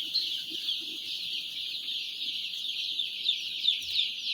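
Dense, continuous chorus of high chick peeping in a poultry brooding shed holding about 14,000 chicks, many overlapping calls at steady strength with no talk.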